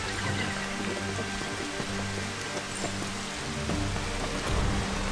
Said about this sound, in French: Bombe de pluie.